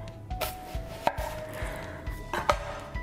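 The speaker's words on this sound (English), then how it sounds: "I leave this skin on, and then I cut through the root" A kitchen knife slices through an onion's root end with the skin left on, giving a few crisp, close chops against a cutting board spaced across a few seconds, with no talking.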